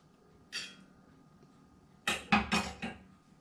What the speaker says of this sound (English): transfer it to the Dutch oven